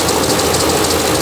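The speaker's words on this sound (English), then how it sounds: "when it's only working with 1, it causes a huge imbalance on the engine and just shakes like" A 6.4L HEMI engine idles rough and unbalanced, running on one cylinder, giving a loud, steady, shaking drone close up with no voices.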